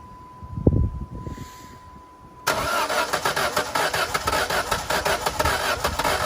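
A 2001 Saturn SC2 with a stuck transmission cranks briefly after a quiet lull, then its engine catches and settles into a loud, steady, close idle with a faint rough flutter.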